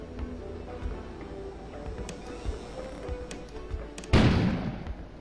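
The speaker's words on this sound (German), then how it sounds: "An explosion suddenly occurred outside." A low background hum with scattered clicks gives way to a sudden heavy boom of a generator explosion in a video game that rumbles and fades over a second.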